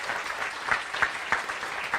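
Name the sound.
audience applause at a congress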